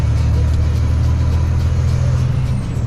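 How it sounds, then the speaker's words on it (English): A truck rumbles along a desert road with a steady, loud low engine drone that holds throughout, close to the microphone, with no talking. "another truck coming up and down the road"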